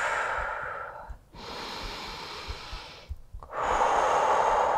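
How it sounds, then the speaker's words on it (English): Deep, slow breathing during a yoga hip flow in tabletop position: long airy inhales and exhales close to the microphone, separated by brief pauses, with no talk. "Take a couple breaths here."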